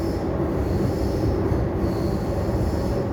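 A Sydney Tangara train running between city stations: a loud, steady rumble of wheels and motors inside the carriage, with a sustained high-pitched squeal from the wheels on the track throughout.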